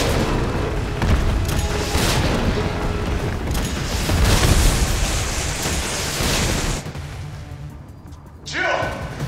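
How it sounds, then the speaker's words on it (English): Rocket launcher explosions thunder in Resident Evil 3, heavy booming blasts rolling over several seconds with a loud rumbling body, then a drop to quieter game sound before a final burst; a voice talks over parts of it. "we're gonna kill this guy instantly with the infinite rocket launcher"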